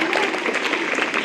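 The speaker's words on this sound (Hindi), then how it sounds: "प्लीज तालियां बजती रहें।" A school welcoming ceremony in a government secondary school, with continuous applause from students and staff for an arriving guest; dense, loud clapping with a murmur of voices mixed in.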